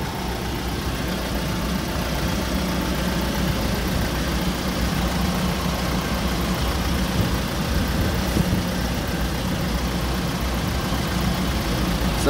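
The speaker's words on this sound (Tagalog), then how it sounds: "So palyado makina." A Kia K2500 truck engine idles with a misfire, giving a steady, close, rough low rumble that runs unbroken, with no talking over it.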